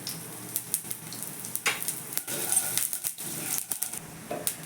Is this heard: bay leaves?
yes